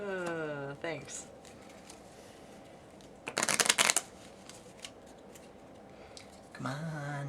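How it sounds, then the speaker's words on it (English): Cards from a DC Comics deck-building card game riffle-shuffled in one sharp crisp burst, close and loud, with voices talking before and after. "Shuffle all the chosen cards face down, then deal 2 back to each player."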